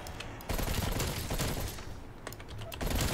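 Gunfire in a video game rattles out in rapid, dense bursts of sharp shots, loud and close, with short lulls between volleys.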